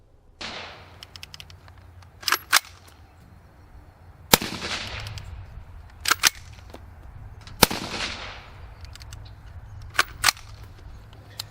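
A Brownells BRN-180 rifle firing suppressed with a SureFire SOCOM RC2 and a suppressed piston cup, sharp muffled reports at irregular intervals, some in quick pairs, with quiet gaps between.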